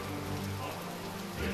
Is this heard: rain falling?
yes